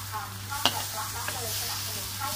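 Rat meat being stir-fried in a pan for a spicy stir-fry with cumin leaves as marinade goes in, giving a steady close sizzle with a few sharp clinks of a utensil against the pan and no talking.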